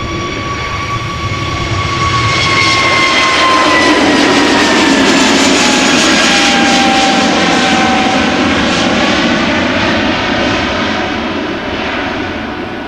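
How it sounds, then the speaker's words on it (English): An Airbus A320neo jet departs Amsterdam Schiphol for Reykjavik with a loud, close, sustained engine roar whose whining tones slowly shift as it climbs away. "A320neo on its way to Reykjavik"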